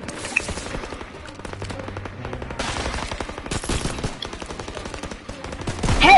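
Gunfire in a World War II video game, rapid bursts of automatic fire with scattered single shots, loud and continuous, growing denser toward the end.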